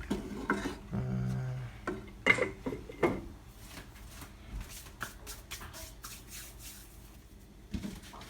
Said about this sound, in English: Sort of have to keep stirring as I'm sort of making a porridge.